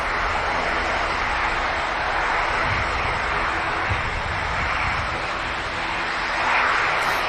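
An EasyJet airliner takes off at Manchester Airport, its engines producing a loud, sustained broadband roar with a rumbling low end that holds steady from start to finish.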